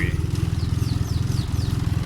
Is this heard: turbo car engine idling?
yes